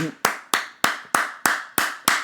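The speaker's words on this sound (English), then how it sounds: "applause. That's what I like." Seven slow, evenly spaced hand claps, sharp and close, with a brief ringing decay after each clap.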